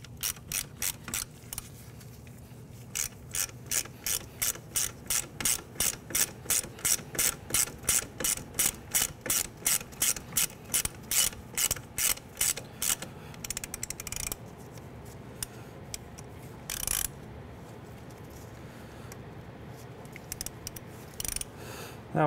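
A hand ratchet tightens a 12 mm bolt on the brake hose bracket of a 2003–2011 Honda Element front strut, giving a long, even run of loud close clicks, then slower, scattered clicks as the bolt seats.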